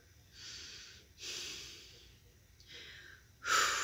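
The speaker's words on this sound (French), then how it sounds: "Vous prenez une respiration un peu plus active. Soufflez" Active exhalations during a guided meditation: four breathy puffs of air in close succession, each swelling and fading, the last one sharpest and loudest, with no talking.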